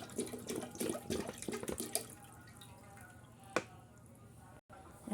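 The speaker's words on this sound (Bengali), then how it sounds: "তো এখন আমি চুলায় হাঁড়িতে খাঁটি গরুর দুধগুলো দিয়ে দিব।" Pure cow's milk poured into a pot on the stove, a splashy liquid pour for the first couple of seconds, then quieter background with a single sharp knock.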